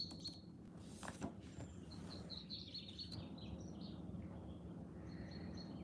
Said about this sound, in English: Are the birds too loud?